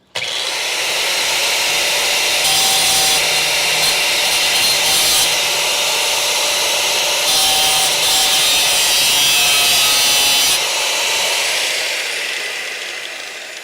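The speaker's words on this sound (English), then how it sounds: "I really should probably grind this down." Steady, loud, continuous grinding on the steel rear frame rail of a Crew Cab Charger, a harsh rasping drone that holds for most of the clip with slight rises in intensity and then trails off, with no talking.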